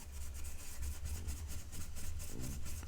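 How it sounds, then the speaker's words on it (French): A blending brush is swept lightly over paper to colour a motif, producing a soft, continuous rhythmic rubbing, faint and close, with a low background hum and no talk. "je mets aucune force dans ma brosse estompe. Je viens juste la passer légèrement"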